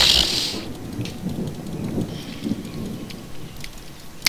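Thunder in the Roblox Dinosaur Simulator game: a broad rumbling roll with a sharp crackling hiss at the start, then a steady rain-like wash that stays fairly loud throughout, with no talking.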